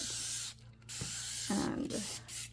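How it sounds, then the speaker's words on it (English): A spray can hisses onto a resin wedding gift tray in short bursts, a steady airy spray that cuts off briefly and resumes, with a low hum and a faint voice in the background. "I'm gonna spray it"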